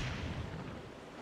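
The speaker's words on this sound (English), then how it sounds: "it turns out these are actually just bomb flowers that have withered. Which means we can throw this bomb over there." Bomb flower blast in Zelda: The Wind Waker HD, a deep rumbling boom that starts loud and decays into a rolling low roar over about a second, alone with no talk.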